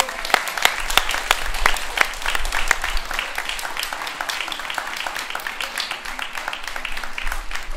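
Audience at a summer music school concert applauds the conductor, dense sustained clapping with sharp individual claps standing out near the listener, running steadily without talk.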